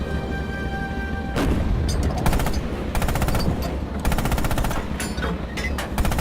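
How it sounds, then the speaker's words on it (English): Coaxial machine gun on a tank in the video game Rising Storm firing in rapid bursts, loud and close, with rattling automatic fire repeating through the stretch over a rumbling engine background. "Open fire with the coax MG on those targets."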